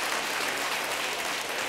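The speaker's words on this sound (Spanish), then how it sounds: "Aplauso, por favor" Studio audience applause on a Spanish evening television game show, a dense steady wash of clapping throughout, loud and close with no voices over it.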